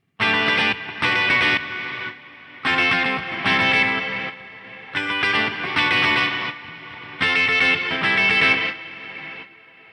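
Distorted electric guitar played through a Quad Cortex reverb pulsed by a Morningstar MIDI controller, strummed chords rising and falling in a steady throbbing rhythm with gaps between phrases, loud and close, without speech.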